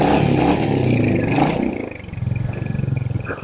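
Royal Enfield Hunter 350 motorcycle pulling away nearby, a loud throaty engine revving up then settling into a steady, lower thrumming idle-like beat as it rides off.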